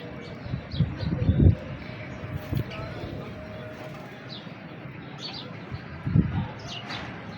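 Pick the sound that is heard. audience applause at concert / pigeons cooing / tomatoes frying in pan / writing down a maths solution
pigeons cooing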